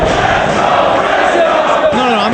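A packed arena crowd at an ROH Final Battle professional wrestling show roars in a steady, dense wall of cheering and shouting that stays loud and close throughout, with a rising yell near the end.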